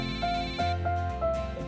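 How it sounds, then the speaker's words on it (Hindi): A phone ringtone plays as a boss calls from the office, a repeating electronic melody with steady tonal beeps recurring in short, even phrases, close and clear, with no talking. "ऑफिस से मेरे बॉस का फोन है"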